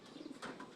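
Racing pigeons cooing softly in a short, faint burst of low throaty coos, heard alone at a distance.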